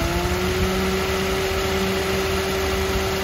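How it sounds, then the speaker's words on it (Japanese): A Suzuki Jimny Land Venture kei car's small engine idles steadily with the air-conditioning compressor running, a low even hum and a thin high whine underneath, close and moderately quiet, no voices. "ちょっとエンジン音聞いて"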